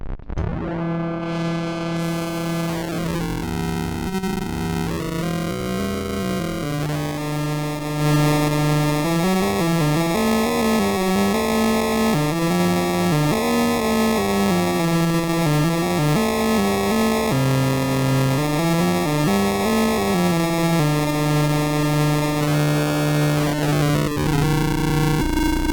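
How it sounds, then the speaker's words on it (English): A Model D synthesizer runs through a Bit Crusher effect, a loud, harsh, gritty sustained tone with sliding pitch steps and buzzing digital distortion, playing alone without pauses. "Next up, the Bit Crusher."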